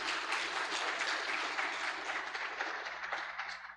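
Audience applause for a presenter at an economic symposium on tax reform in Palau: a sustained, even wash of many hands clapping, fairly faint and distant in the room, running the whole time with no talk over it.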